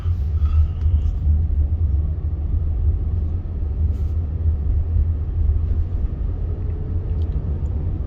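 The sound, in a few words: car driving through all-way stop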